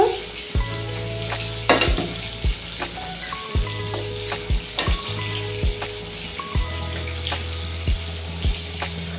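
Moong dal cooked with fish head boils in a pot, giving a steady run of bubbling pops and gurgles with irregular louder bursts throughout, close and clear with no talking.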